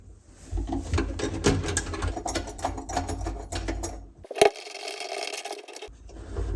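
Kitchen faucet mounting screws are loosened with a hand tool during a faucet installation, producing rapid irregular clicks and scraping ticks, close by, with one sharper knock partway through.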